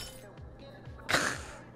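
Glass shatters in the Job Simulator video game, one sudden bright crash with a tinkling tail against a low background hum.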